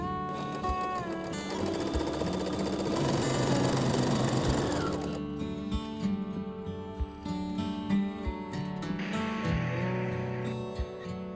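Sewing machine running steadily as it stitches a French seam on the sleeve of a bias-cut dress, a close, continuous motor whir with a rising, busier stretch in the middle before settling back to a steady hum.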